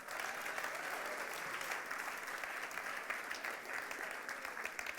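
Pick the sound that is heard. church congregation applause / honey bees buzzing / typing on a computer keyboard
church congregation applause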